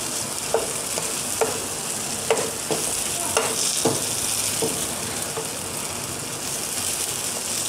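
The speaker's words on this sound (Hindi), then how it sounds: "थोड़ा सा गोल्डन ब्राउन कलर आने देंगे। अच्छी तरह मिक्स करते रहना," Semolina fries in a pan for halwa with a steady soft sizzle, while a spoon scrapes and stirs it in irregular clicks and taps close by.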